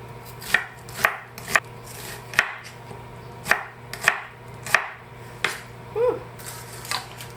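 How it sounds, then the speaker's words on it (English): Onions sliced with a knife on a board while cooking sweet and sour mackerel: about a dozen crisp, close chopping strokes in an uneven rhythm, with short pauses between, and no talking. "I'm gonna slice my vegetable."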